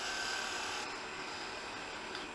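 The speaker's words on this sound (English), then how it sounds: "we're going to come in with our ultra-narrow parting tool made from a steak knife. And we're just going to go ahead and part that off" A steady, rasping scrape of a narrow parting tool made from a steak knife cutting into a spinning wooden lemon reamer on a lathe, continuous and close throughout.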